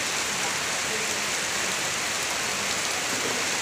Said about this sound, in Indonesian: Aduh, hujan-hujanan Pak Wayan.